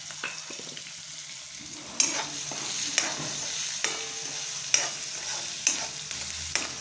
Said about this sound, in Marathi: कढीपत्ता, कांदा घालायचा। कांदा जरा चांगला आता परतून घ्यायचा आपल्याला लालसर होईपर्यंत।